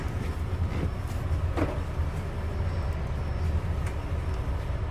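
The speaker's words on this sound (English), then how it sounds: "SkyTrain to Canada Line to Richmond" A Vancouver SkyTrain car on the Millennium Line rumbles along steadily, with a continuous low roar of wheels and motors and faint rattles from inside the carriage.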